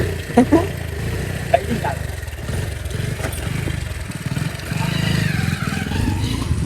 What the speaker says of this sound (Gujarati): વરસાદમાં બાઇક બંધ થઈ ગયું યાર ચાલુ એમના કરી દીધું